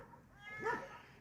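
A single cat meows once, a short rising-falling call, fairly close, against a quiet background.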